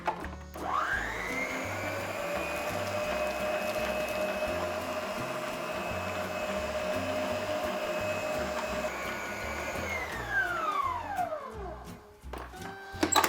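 A kitchen stand mixer with a kneading hook works gluten-free doughnut dough in a steady, close motor whine that runs evenly for about ten seconds, then winds down as it stops.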